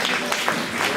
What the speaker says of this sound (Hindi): बड़ी जोर से ताली बजाइएगा